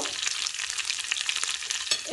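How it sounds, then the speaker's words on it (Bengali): Coriander leaves sizzle and crackle in a hot pan, a close, steady frying hiss with faint stirring. "ধনিয়া পাতাগুলো যখন একটু ভাজা ভাজা হয়ে আসবে"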